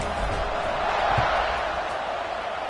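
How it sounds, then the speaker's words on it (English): A stadium crowd in the video game College Football 26 buzzing after a score, a steady, moderately loud murmur and roar with a faint thump partway through. "this crowd is buzzing after that last score"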